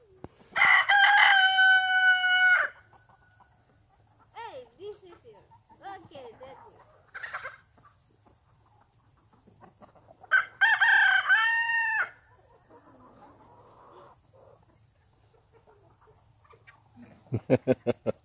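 A rooster on a farm crows loudly twice in long, harmonic calls, with softer chicken clucks and scattered farmyard noises in between and a brief faint voice near the end.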